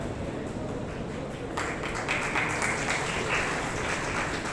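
An audience claps at an offer-letter distribution ceremony, a rough steady patter of hands that swells a little louder partway through, with a low murmur of the crowd beneath.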